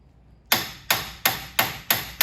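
Sharp metal hammer blows strike a 1998 Toyota RAV4 steering knuckle to free the CV axle, six evenly spaced, loud clanging hits with quick decays, no talking.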